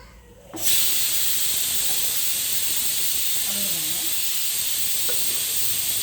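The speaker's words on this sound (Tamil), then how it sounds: "இது விசில்" A pressure cooker whistle venting steam while sambar cooks, a loud steady hiss that starts suddenly and continues unbroken close by, with faint speech underneath.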